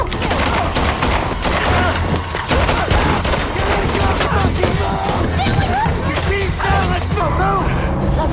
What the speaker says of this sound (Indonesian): terjadi adegan bedil-bedilan antara dua tim itu